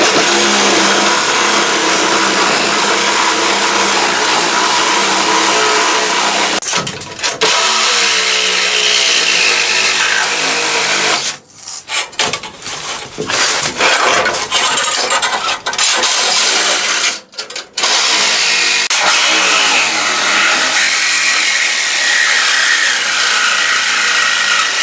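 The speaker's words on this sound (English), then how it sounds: "I'm going to go ahead with the Sawzall and zing all these" Sawzall reciprocating saw cutting floor braces inside a car during rocker panel replacement: loud, continuous rasping buzz with a few brief pauses where the blade stops, then resumes cutting.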